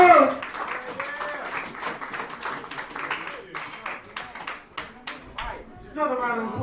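Comedy club audience in a dive bar claps and cheers for the host, a dense burst of applause that thins into scattered claps, with voices over it near the start and end.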